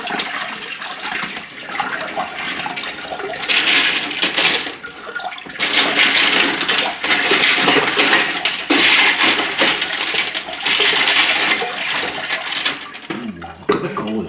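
Water running and splashing over tumbled mixed rocks and stone slurry during a rinse, a steady rushing wash with louder surges and some gritty rattling, continuing for several seconds.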